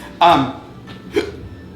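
Someone hiccups twice, about a second apart, each one a short, abrupt catch of breath heard close and fairly loud in a quiet room.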